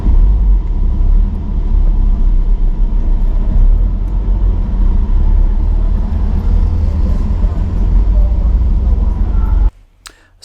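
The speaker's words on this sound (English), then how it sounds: "We are driving across a field at the moment, which is very firm." A car drives across a firm field at the Goodwood Festival of Speed 2023, a loud, steady low engine rumble with road and tyre noise inside the cabin that cuts off abruptly near the end.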